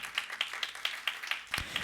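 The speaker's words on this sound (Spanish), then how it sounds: "Dale palmas al Señor." A church congregation claps hands in a steady, rhythmic beat, about four sharp claps per second, close and moderately loud with no talking over it.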